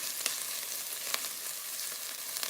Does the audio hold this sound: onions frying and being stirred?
yes